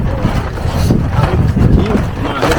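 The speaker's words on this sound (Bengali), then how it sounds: "প্রচণ্ড হাওয়া এখানে" Strong wind on a boat ride at Chilika lake buffets the microphone with a loud, gusty low roar that swells and dips, mixed with faint boat noise.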